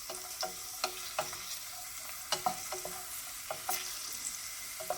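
Raisins fry in hot oil with a soft continuous sizzle, punctuated by repeated sharp clicks and taps of a stirring utensil against the pan, close and fairly quiet.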